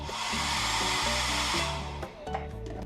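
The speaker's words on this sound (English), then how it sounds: "this very top one has the hair dryer, which I'm assuming is the original," A vintage wall-mounted hair dryer in a Margaritaville Islander cruise cabin runs steadily as a loud, continuous whirring blow, with a low motor hum and shifting tones.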